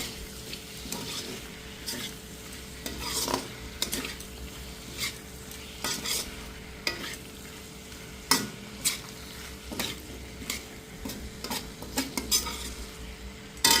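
Katla fish swim bladder with boiled cabbage being stirred and fried in a pan, a steady sizzle broken by repeated scraping strokes of a spatula against the metal, close and without any talk.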